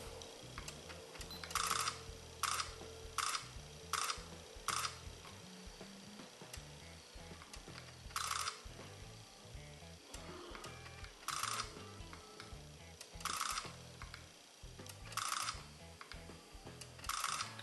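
Rapid bursts of Canon PowerShot SX520 HS shutter clicks in continuous drive, crisp and close, fire in quick volleys separated by short pauses.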